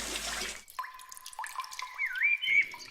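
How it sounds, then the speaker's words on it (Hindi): Water from a spring poured over a small clay pot-shaped house in a cartoon forest, a short burst of splashing followed by light dripping and trickling tones, fairly close and clear with no talk. "कालू अपना मिट्टी का घर ठंडा रखने के लिए झरने से पानी लाकर उस पर डाल रहा था"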